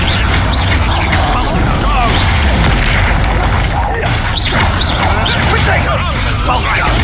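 Incendio fire spells cast repeatedly in Hogwarts Legacy, a dense, loud run of booming, crackling bursts packed tightly together amid steady game noise, with no clear gaps between blasts.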